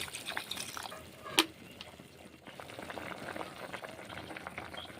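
Water poured into a pan of bitter gourd chorchori curry: a sharp splash and clink, then faint bubbling and hissing as the liquid simmers, quiet and close with no talking.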